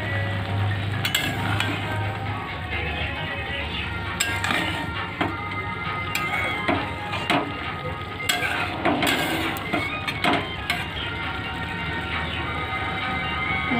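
Raw fish chochchori cooking in a pan and being turned over, with a steady sizzle throughout and scattered clinks and scrapes of the utensil against the pan, close and fairly loud with no talking.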